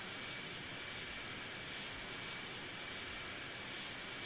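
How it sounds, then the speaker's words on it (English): Passenger jet approaching in Airport Simulator 14, a faint, steady broadband engine roar with a thin high whine held throughout, unchanging and distant, with no talk. "I think it's just another passenger plane."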